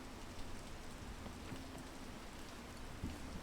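Steady rain falls in the mountain-climbing video game PEAK, a constant, even hiss of drops with a few faint low thuds, and no voices.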